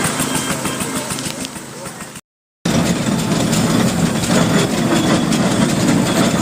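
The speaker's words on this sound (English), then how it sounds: "the inevitable ride on the trailer behind the traction engine" A steam traction engine hauls a ride trailer at a steam fair, a loud, steady mechanical rumble and chug broken by a brief total dropout, with voices talking over it.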